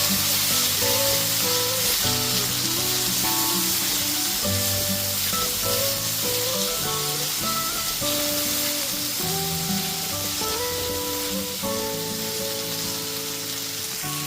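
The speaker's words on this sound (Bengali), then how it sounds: "গ্যাসের ফ্লেমটা মিডিয়ামে করে খুব ভালো মতো আদা রসুন পেস্টটা কষিয়ে নিতে হবে" Ginger, garlic and green chilli paste sautéing in a pan over a medium gas flame gives a steady, close sizzle throughout, with tonal background music playing over it.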